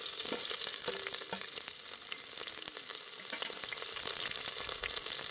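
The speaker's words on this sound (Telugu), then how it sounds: "వెంటనే తరిగి పెట్టుకున్న ఎర్రగడ్డ ముక్కలు వేస్తున్నా." Chopped red onions dropped into hot oil with biryani masala while cooking country chicken curry, producing a close, bright, continuous sizzle with scattered crackles and stirring scrapes.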